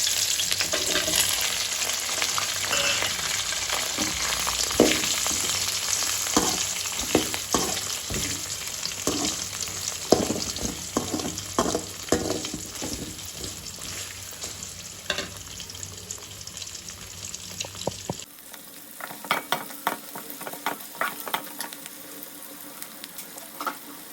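Oil frying for Thalai Kari curry, a continuous loud sizzle and crackle with frequent spatula scrapes and clatters against the pan, close up, quieter near the end, no talking.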